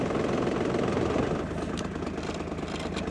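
An engine on a potato-digging plot runs steadily at a low, rumbling idle, loud and close with an even throb throughout.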